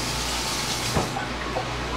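Tap water runs steadily into a kitchen sink for hand washing, a constant close hissing spray with a slight splash near the middle.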